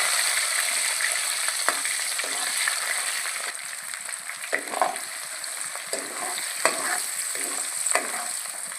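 Chopped tomatoes frying in hot oil for a stuffed brinjal curry, stirred now and then: a steady close sizzle with scraping spatula strokes and soft clinks against the pan, no talking.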